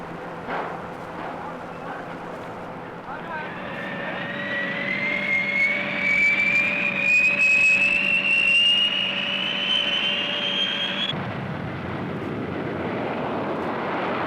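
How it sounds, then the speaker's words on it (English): A B-58 bomber in flight, a loud sustained roar with a rising whine building over several seconds and then cutting to a steadier rumble, heard as a continuous close pass. "Also part of this massive strike force is the B-58."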